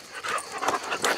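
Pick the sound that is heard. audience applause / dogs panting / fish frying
dogs panting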